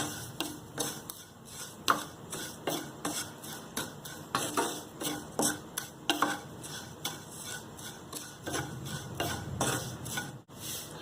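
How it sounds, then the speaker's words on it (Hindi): Rhythmic scraping and tapping of a utensil stirring vermicelli frying in a pan, with a light sizzle underneath, repeated steadily at close range. "इसे भी जस्ट हमें लाइटली गोल्डन ब्राउन होने तक फ्राई कर लेना है।"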